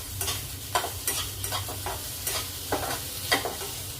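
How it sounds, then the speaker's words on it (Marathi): Potatoes and sandwich filling being sautéed and stirred in a pan, with steady soft sizzling and repeated scraping strokes of a spoon in an irregular rhythm, close and alone. "आता यांना आपल्याला परतून घ्यायचं आहे मिक्स करून घ्यायचं आहे सगळं साईडचे"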